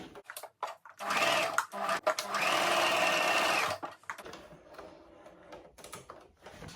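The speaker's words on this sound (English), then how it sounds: "take it back to your sewing machine and stitch it down" A sewing machine runs in quick bursts, then one longer steady whirring stretch of rapid stitching, fairly close, followed by faint handling noises.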